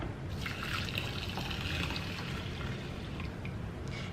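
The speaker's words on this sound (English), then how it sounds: "we're going to add 3 cups of hot water or warm water to our rice" Hot water trickles and pours steadily onto rice in a container, a continuous close liquid splash with no voices.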